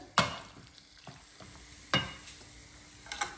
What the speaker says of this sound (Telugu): ఆయిల్లో కొంచెంసేపు ఇలా సాటే చేసుకుంటే కొంచెం సాల్ట్ వేసేసి సాటే చేసేస్తాను ఫస్ట్